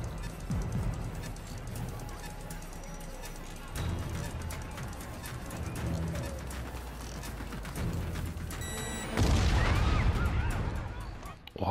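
In Marvel's Spider-Man game, a rumbling, crackling explosion from car bombs erupts near the end, following a noisy stretch of gunfire-like pops and clatter in a busy city.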